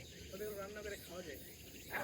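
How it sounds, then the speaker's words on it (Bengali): Large cricket-like insect calling in a park in Sendai, Japan, its pulsing, buzzy trill rising in two bursts at moderate distance, fairly faint, with a louder noise at the very end. "ঝিঝি পোকা ডাকতেছে"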